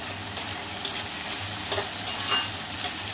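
Onions frying in hot oil with curry leaves and green chillies, a close steady sizzle broken by several sharp stirring clatters of a spoon against the pan.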